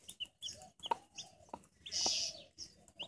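A mother hen clucks softly near her two-day-old pure white chicks, which chirp with high peeps, the calls coming in short, close bursts with brief pauses between them.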